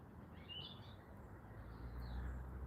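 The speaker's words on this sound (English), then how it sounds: "I can hear a robin." A robin sings faintly outdoors, with a few thin, high warbling phrases over a steady low background hum.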